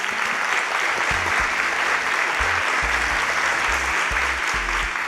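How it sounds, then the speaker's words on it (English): An audience applauds for Team Earth at a startup pitch event, steady continuous clapping from a crowd throughout, with low thumps underneath. "Please, round of applause for Team Earth."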